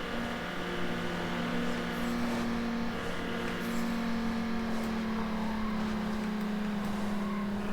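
Steady, loud car engine drone from Need for Speed Underground, holding a nearly constant pitch with a rich buzzing hum as the car cruises. It plays alone without pause.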